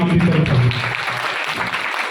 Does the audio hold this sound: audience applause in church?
yes